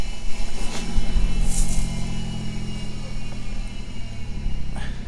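Chevrolet F-Body with a 3800 V6 engine that idles poorly, cranking and running at a low steady idle, a close rumbling drone that stays fairly even with small surges.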